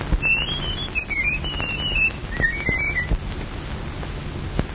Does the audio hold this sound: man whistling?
yes